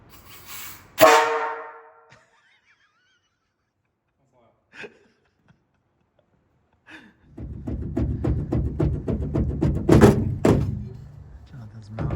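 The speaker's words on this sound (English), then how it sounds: "Jonathan's gonna test the air horn" A long trumpet air horn on an antique fire truck sounds in a sustained blast after a sharp thunk and quiet pauses, loud and close with some talk around it.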